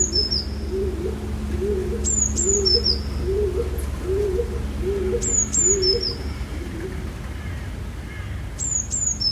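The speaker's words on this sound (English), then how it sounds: "If you're listening carefully, you'll hear at least 3 or 4 different kinds of birds." Several bird species sing together in Paris: repeated high, sharp chirping phrases return every few seconds over a steady series of soft, low cooing calls, against a constant low background hum.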